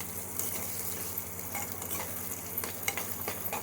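Ingredients for appalam poo kuzhambu sauté in a pan with a soft, continuous sizzle, broken by light scraping and stirring taps near the end, with no voices.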